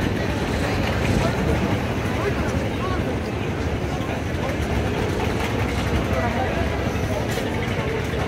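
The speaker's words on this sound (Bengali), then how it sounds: "লঞ্চটি কিন্তু ব্যাক গিয়ারে আছে" A passenger launch pulling away from a pontoon at Barishal in reverse gear, its engine a dense, steady rumble with wash and churning water throughout, close and loud, while a person talks over it.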